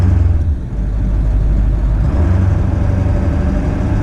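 A Ford 7.3 Powerstroke diesel truck drives along with a loud, steady low engine rumble and road drone, no voices over it.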